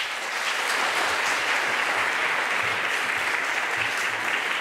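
An audience applauds to welcome lecturer Professor Mary Townsend at a dean's lecture, steady dense clapping filling the room throughout, with no talk.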